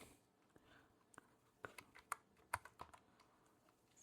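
Sparse, uneven clicks of keys being typed on a computer keyboard while entering code, soft and close, with short pauses between bursts and no talking.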